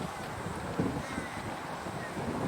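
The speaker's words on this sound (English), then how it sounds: "it's so windy" Steady wind buffets the microphone, producing a constant rushing roar with a faint background texture and no clear voices.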